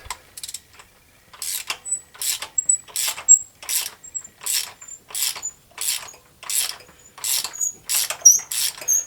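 Rhythmic ratcheting of a wrench loosening a water heater element plug, a steady series of about a dozen sharp, close clicking bursts with short pauses between, with no talk.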